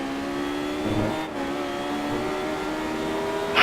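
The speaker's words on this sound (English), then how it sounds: "Gently build up the gas, off the throttle a little bit to get that turn in, and just power it through the snake." A Radical race car accelerates on the VIR Grand East circuit, its engine note rising in a steady mid-pitched drone that dips briefly before climbing again, close and loud with no speech.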